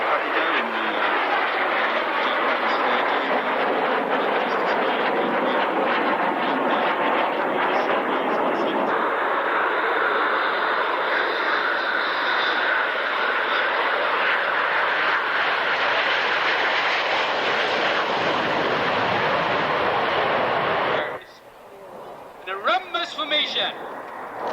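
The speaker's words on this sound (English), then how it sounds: "See the 2 aircraft now splitting left and right." Two jet aircraft roar past at the 1996 Fairford International Air Tattoo, splitting left and right: a loud, continuous broadband rush sustained for about twenty seconds, then dropping away sharply to quieter, scattered sound.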